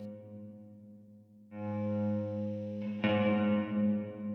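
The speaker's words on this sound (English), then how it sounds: "I'm gonna let in a good amount of this, which is a kilohertz room reverb" Sustained guitar chords ring out through a room reverb effect with a wide, roomy tail, a second chord joining halfway with a soft swell.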